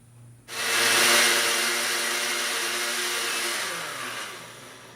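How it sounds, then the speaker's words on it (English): A kitchen blender starts abruptly and runs at a steady high whir, blending a braising sauce with ground cumin and oregano, then slows slightly toward the end, loud and close with no talk. "I'm going to blend these until they're smooth"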